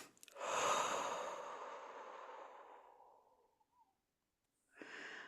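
A long, deep, breathy exhale during a breathing exercise, close and soft, tapering off slowly over about three seconds before a brief pause and the start of another breath.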